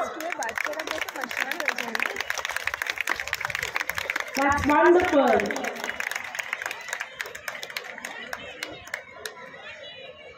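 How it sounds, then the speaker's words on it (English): Audience clapping for the winners of a school flat race at a medal prize distribution, a dense patter of hand claps running throughout with crowd chatter and a voice speaking briefly over it. "Loud clapping for the winners."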